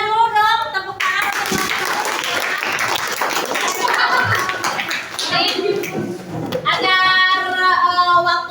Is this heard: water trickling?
no